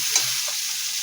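Lightly fried potatoes in a pan with a little tomato sizzle softly in one brief, steady burst, with a faint stir scraping near the start.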